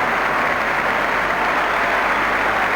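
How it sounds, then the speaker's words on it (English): A cricket crowd applauds continuously, a dense, even wash of clapping from a large gathering heard alone without commentary. "So more enthusiastic applause."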